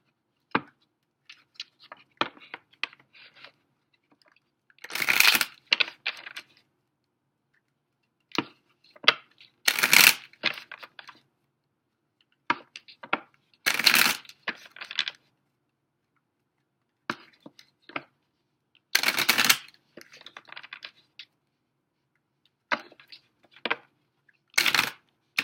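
Tarot cards shuffled by hand in a series of quick riffle bursts, each a second or so long and recurring every few seconds, with softer card taps and handling sounds between them and no talking.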